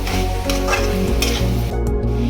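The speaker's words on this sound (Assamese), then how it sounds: "এনেদৰে মই 10 মিনিটমান ভালদৰে মছলাৰ লগত চিকেনখিনি এতিয়া ভালকৈ ভাজিম" Chicken frying with spices and Kashmiri red chilli powder in a pan, a close, loud sizzle with spatula stirring scrapes, cut off abruptly near the end, no voices.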